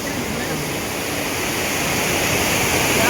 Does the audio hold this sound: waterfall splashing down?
yes